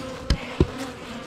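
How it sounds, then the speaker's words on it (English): Quiet honey bee buzzing hums in the background at a hive, broken by two soft thumps close by. "There's more bees in there."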